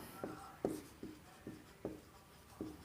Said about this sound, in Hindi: ये लिखेंगे